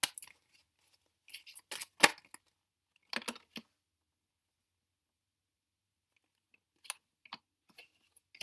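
Crisp, dry card snaps and slides come in short clusters up close, followed by a long quiet stretch and a few faint, isolated flicks, with no voices.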